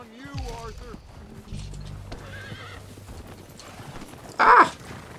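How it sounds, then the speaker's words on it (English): Horse hooves clip-clopping and a loud whinny from a horse in the Red Dead video game, with hoof steps throughout and a sharp neigh near the end, over low background sound. "Let me get on my horse."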